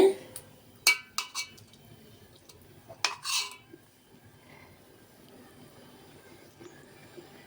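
A pot lid and cookware clink sharply a few times while sweet potato cooks on a stove, with a cluster of light metallic knocks early and another near the middle, then only a low, quiet kitchen background.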